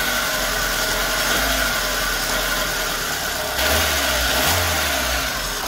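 A Hyundai Accent engine idles steadily at close range, a constant low mechanical hum with a slight rise in tone partway through, no voices over it.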